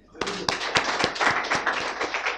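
An audience at a research-mindset lecture breaks into clapping, a quick run of distinct claps starting suddenly and continuing close and fairly loud, with a voice briefly mixed in.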